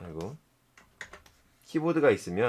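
A few quick computer keyboard key presses, including the Ctrl key and number pad keys, click in a brief pause between stretches of a voice talking close by.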